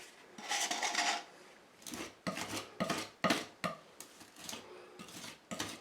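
Spackle pressed and spread into a grout joint with a scraping tool, heard up close as a series of short rasping strokes, each a separate gritty scrape with brief pauses between.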